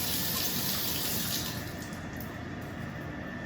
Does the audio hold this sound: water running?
yes